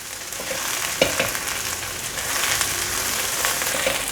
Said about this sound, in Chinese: 现在放入香菇， 快速翻炒，把香菇炒香。